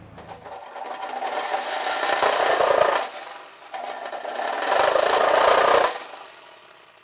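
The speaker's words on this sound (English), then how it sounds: "why don't we just go for it with the big boy, the reciprocating saw" A reciprocating saw cuts through a steel trunk lid patch panel on a Model A hot rod, two loud rasping bursts of about three seconds each with a short pause between them.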